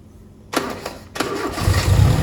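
A motorcycle engine with an uneven, wavering idle and a suspected carburetor mixture fault starts up after a short quiet pause, with two quick cranking bursts before it catches and settles into a close, loud, rough idle.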